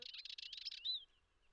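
A small bird by an Iberian river in summer sings a quick, bright series of rapid chirps, then ends on one clear rising whistle, close and isolated against near silence.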